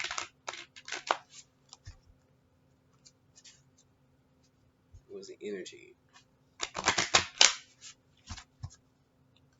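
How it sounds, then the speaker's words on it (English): Deck of cards being shuffled at close range, sharp bursts of riffling and flicking separated by pauses, with a voice speaking briefly in between. "I think these cards are shuffled enough."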